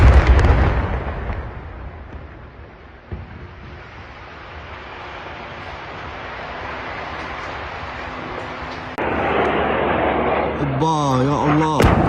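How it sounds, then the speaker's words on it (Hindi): Explosions from Israeli bombardment in Gaza: a heavy, booming blast opens and slowly fades into a long rumble, with another thump later, then sustained noise as voices rise near the end. "इजराइल ने पूरी ताकत से पिछले 24 घंटे में गाजा के अलग अलग इलाकों पर बमबारी भी की है।"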